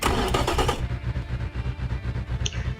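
A V10 engine in the Automation car-building game starts, opening with a rough burst of cranking that settles into a deep, pulsing rhythmic idle, close and steady with no voices.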